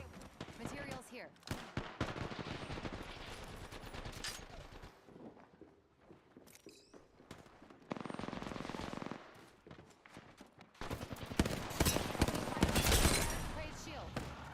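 Rapid bursts of automatic gunfire and single shots crackle through a video game firefight, coming in clustered volleys with short pauses, some near and loud, while voices call out between them.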